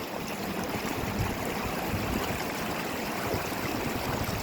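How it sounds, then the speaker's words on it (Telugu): Chinna Musi river water flowing past near Amberpet, a dense continuous rushing wash of water, steady and fairly loud with no voices. "ఈ వాటర్ అంతా దీన్ని చిన్న ముసి రివర్ అంటారు."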